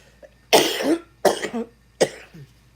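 Three harsh, loud human coughs in close succession, each burst short and rough, with a brief pause between them and no talking.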